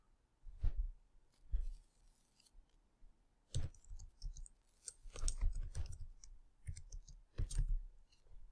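Computer mouse clicking at a desk, a series of close, crisp clicks, some single and some in quick clusters, over quiet background.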